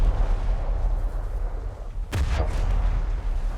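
A single heavy naval gun blast booms loudly in War Thunder naval combat, a sharp close report with a rumbling tail over steady low background noise.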